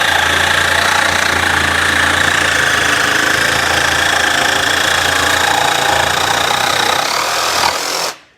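Ryobi barrel-grip jigsaw pushed hard through a cut at orbit setting 3, a loud, steady, buzzing mechanical roar with heavy vibration running unbroken for about eight seconds before cutting off abruptly.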